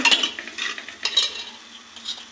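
A spoon stirs turmeric and spices into pav bhaji in a pan, giving close, scraping, clattering strokes in quick bursts over a faint sizzle, with no talk.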